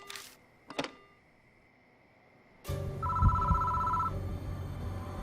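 A telephone rings in the horror adventure game Death Mark, a steady electronic trill that begins partway through after a short knock or thud and stays loud over a low ambient drone.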